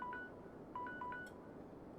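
Phone giving off a few short electronic beeps, thin and faint over a steady background hiss, in several quick tones spaced across a couple of seconds.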